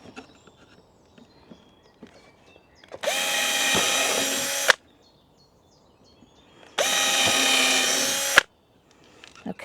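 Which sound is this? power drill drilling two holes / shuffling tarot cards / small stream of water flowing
power drill drilling two holes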